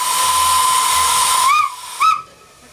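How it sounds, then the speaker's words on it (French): A steam locomotive built in 1916 lets out a strong hiss of steam, then gives two short whistle blasts that rise and cut off, the second brief and punchy, with no talking. "Sans oublier bien entendu le légendaire coup de sifflet."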